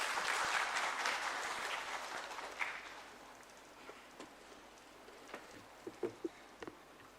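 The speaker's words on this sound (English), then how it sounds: "Please join me in a warm round of applause to welcome Sir to the stage." At an international conference on law and order in elections, an audience applauds to welcome a speaker to the stage. The steady clapping is fairly distant, fades after a few seconds and leaves a few scattered single claps.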